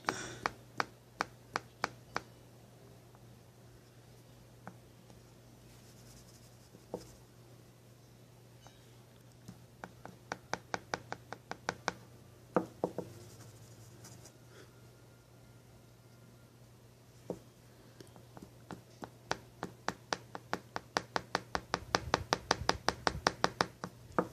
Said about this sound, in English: I can just simply measure out his formula by dumping it into that cap now.